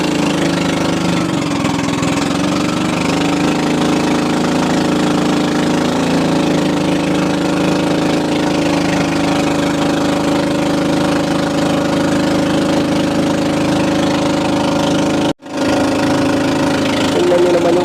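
A boat engine drones loudly and steadily, with a rough, knocking mid-pitched rumble that barely changes for the whole stretch apart from one brief dropout.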